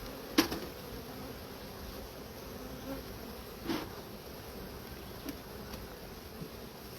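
Honey bees hum at a hive in a soft, continuous drone, with a few louder buzzes as single bees pass close by.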